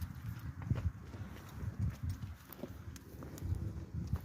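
A horse walks on hard ground with steady clip-clop hooves, close and moderately loud against a light outdoor background.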